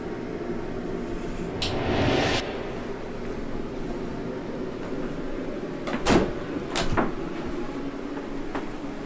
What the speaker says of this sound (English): I just heard a knock